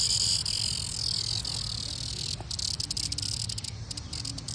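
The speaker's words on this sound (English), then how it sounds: "I got a cicada friend." A cicada in a botanic garden gives a loud, continuous high-pitched buzzing drone close by, steady at first and turning into a pulsing, stuttering rattle toward the end.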